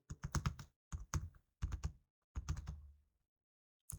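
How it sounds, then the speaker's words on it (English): Keys and a mouse button clack on a computer in quick clustered bursts, several sharp taps close together, followed by a silent pause and one more click. "press control and then click on copy sheet"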